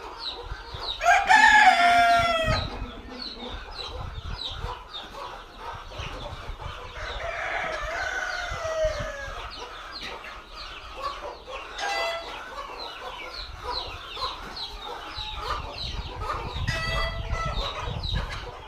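Free-range desi chickens on a poultry farm cluck steadily, with a loud nearby rooster crow early on and more scattered clucks and calls from the flock, close and continuous.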